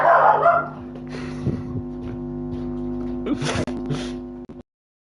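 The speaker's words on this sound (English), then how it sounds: "Sorry about that, my sister's dog." A sister's pet dog, Bonnie, gives close, loud whimpering yelps and short barks in scattered bursts over a steady hum, with a brief gasp-like cry near the start.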